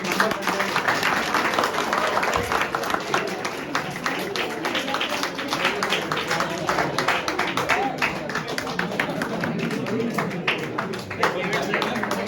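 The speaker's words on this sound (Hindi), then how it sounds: "तालियां जोरदार" Hearty applause from an audience at a Shaheed Hemu Kalani memorial day event in Bikaner, dense, steady clapping that fills the whole stretch, with a voice faintly audible underneath.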